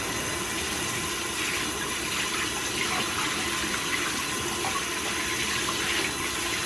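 Running water rinses a bathtub, a steady, even gush that holds at moderate level from start to finish without pause, and nobody speaks.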